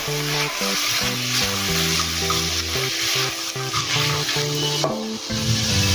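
White peas being stirred into vegetable pulao in a pan, a continuous close sizzle and frying hiss with scraping stir strokes running throughout, with no talk.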